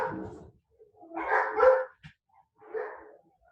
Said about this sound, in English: Can you quiet the dogs down?